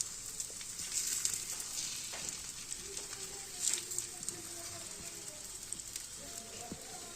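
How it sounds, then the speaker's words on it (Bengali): Gola ruti batter sweetened with date palm jaggery fries in hot oil, giving a faint, steady sizzle with occasional soft crackles and light utensil touches close by. "তেলটা গরম হয়ে আসলে আমরা গোলাটা এর মধ্যে ছেড়ে দেব।"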